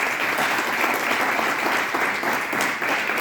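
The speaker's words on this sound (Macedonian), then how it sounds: "Може еден аплауз." Ceremony audience applauding an award-winning firefighter, steady dense clapping from a large crowd throughout, close and loud with no talking over it.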